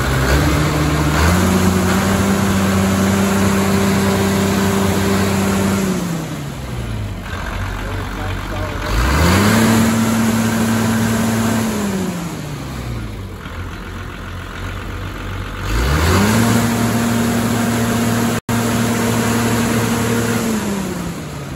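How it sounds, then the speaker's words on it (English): Kobelco SK290 excavator diesel engine revved up three times from idle, each rise climbing to a steady high pitch, holding for several seconds and falling back, loud and close, with talking over the idle between revs. "Go ahead and rev it up"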